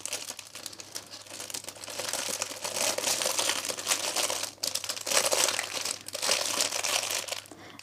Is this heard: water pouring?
no